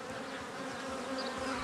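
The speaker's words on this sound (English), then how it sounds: "his wife collects a swarm that has just escaped the hives" A dense, steady buzz of many bees swarming around hives in a Greek garden as a swarm is collected, a continuous droning hum that fills the whole moment.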